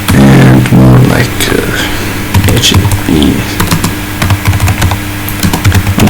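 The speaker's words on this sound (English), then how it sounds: "I'm just typing random stuff" Rapid keystrokes on a computer keyboard clatter close by in irregular bursts, with a voice talking briefly over the start and a low hum underneath.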